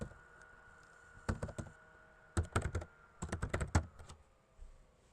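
Keys clatter on a computer keyboard in a few quick bursts of close tapping with short pauses between, over a faint steady room hum.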